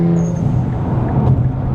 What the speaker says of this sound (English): This sound, it's amazing. Like in comparison to BMW M2, which also has upgraded exhaust system, this is cutless exhaust.